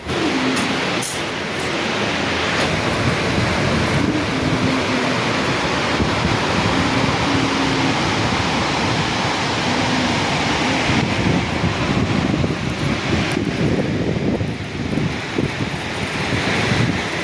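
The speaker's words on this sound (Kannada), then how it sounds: "ಫಾಲ್ಸ್ ಹತ್ತಿರ ಬಂದಂಗೂ. ಯಾಕಂದರೆ ತುಂಬ ಸೌಂಡ್ ಇರುತ್ತಲ್ವ" Constant heavy roar of cascading water close by, broad and unbroken, with gusty rumbles mixed in throughout.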